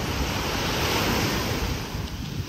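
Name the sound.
ocean waves washing up on the beach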